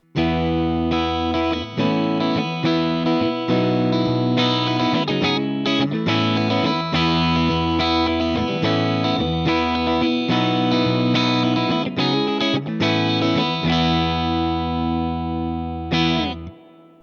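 An electric guitar played through a Fender Deluxe Reverb amp model on a Fender Tone Master Pro, clean with reverb, strummed chords and ringing notes with a slight shimmer, continuous and fairly loud, fading at the end.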